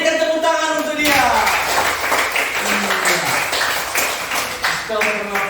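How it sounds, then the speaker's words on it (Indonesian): A class gives a student a round of clapping, steady overlapping claps running throughout while voices talk over them. "Berikan tepuk tangan untuk dia"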